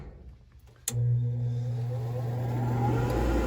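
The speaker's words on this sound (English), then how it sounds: "it immediately starts blowing, unlike the unit it replaced" A Fasco A130 draft inducer motor on a gas furnace starts with a sharp click, then settles at once into a loud, steady blowing hum that carries on unbroken.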